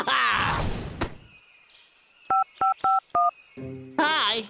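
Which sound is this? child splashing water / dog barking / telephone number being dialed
telephone number being dialed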